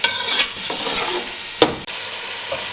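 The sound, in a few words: frying chickpeas with yogurt, stirring in pan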